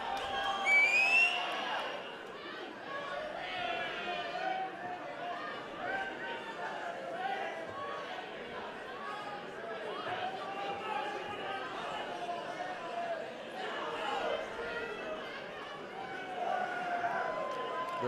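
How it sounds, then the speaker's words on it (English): Crowd at an Island Fights combat sports event, a continuous murmur of chatter and cheering with occasional louder shouts rising from the arena, heard beneath a commentator's voice throughout. "The crowd is into it."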